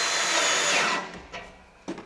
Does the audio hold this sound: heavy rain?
no